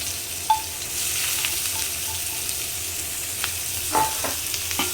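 Sliced onions frying in hot oil in a pan alongside turmeric and salt, a steady soft sizzle with a few brief stirring clinks and scrapes, close and alone with no talking.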